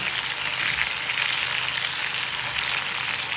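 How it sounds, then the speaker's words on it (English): Chopped onion frying in hot oil in a pan for a beans dish, a steady, dense sizzle and crackle that holds evenly throughout with no talking over it. "So I'm taking in my onion. Yep. I'm gonna allow that fry for 1 second."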